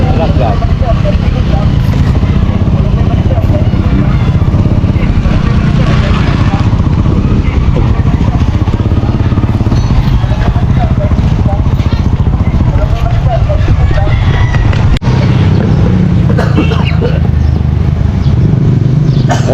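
A motorcycle tricycle engine runs loud and close in a continuous rough drone, with voices talking over the steady rumble.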